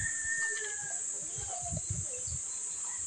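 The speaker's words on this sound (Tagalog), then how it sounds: "Nagkukuha siya ng manok" A chicken clucking in short, low bursts near a steady high insect-like whine, with faint bird chirps and whistles scattered in the background outdoors.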